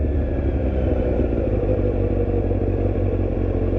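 A motorcycle on the highway drones with a steady, loud engine roar and heavy wind rumble, continuous and close with no pauses.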